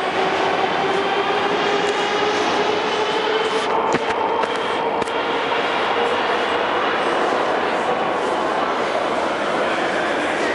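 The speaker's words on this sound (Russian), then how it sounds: "81-740 уехал со станции Парк Побед." Moscow metro 81-740 train pulling out of Park Pobedy station, a steady loud rumble and rail roar filling the platform throughout, with a couple of brief clunks midway.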